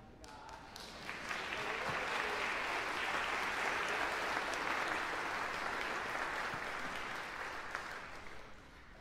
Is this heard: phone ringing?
no